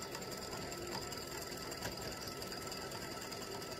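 An embroidery machine with a 90/14 needle stitching a baseball appliqué design, a steady fast mechanical whir and rattle running continuously at low level with no talk.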